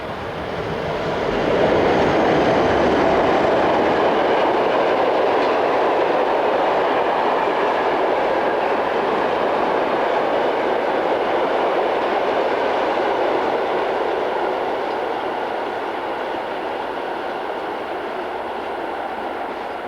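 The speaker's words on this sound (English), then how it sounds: "Number 11628 is the second locomotive in the formation," Swiss Re6/6 (Class 620) electric locomotives, number 11628 second in the formation, haul a train up the Gotthard grade towards Göschenen, a loud sustained roar and rumble with faint wheel clatter throughout.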